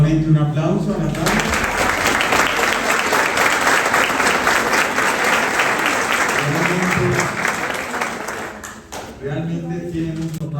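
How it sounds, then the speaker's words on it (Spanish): Audience applause for Natalia after a spiritual retreat talk, a dense sustained clapping wash filling most of the stretch, with a speaking voice briefly at the start and again near the end as the clapping thins. "Démosle nuevamente un aplauso a Natalia."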